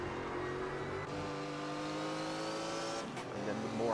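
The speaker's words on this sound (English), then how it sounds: "A low growl, one of the best sounding engines of the grid." A loud Aston Martin V8 race car engine growls in a low, steady roar, rising slightly in pitch as it pulls through the revs, with a brief shift-like dip near the end; a commentator speaks over it.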